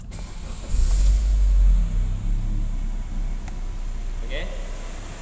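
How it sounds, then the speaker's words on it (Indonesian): A car engine started during a battery tester check, a close cranking catch that settles into a steady low idle rumble, with a person talking nearby. "start the vehicle ya"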